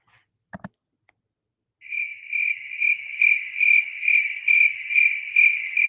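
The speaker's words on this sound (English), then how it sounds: "Yeah, crickets." Crickets played as a sound effect chirp in a steady pulsing trill that starts abruptly after two short clicks, continuing clear and close with no voices.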